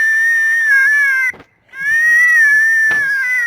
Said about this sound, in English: Jackrabbit distress.